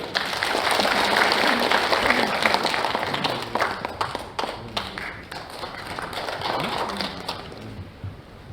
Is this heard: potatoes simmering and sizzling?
no